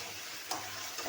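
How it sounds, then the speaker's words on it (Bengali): Potatoes are fried together with chicken in oil in a pan, a quiet, even sizzle with two brief scraping stirs close by, and no speech. "এবার আমি আলুগুলো দিয়ে কিন্তু কষবো"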